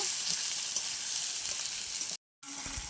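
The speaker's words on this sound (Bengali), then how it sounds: "এটা একটু লাল লাল করে ভেজে নেব।" Onions frying in a pan with caramelized sugar until reddish give a steady, close sizzle with faint stirring, briefly cut to silence before resuming.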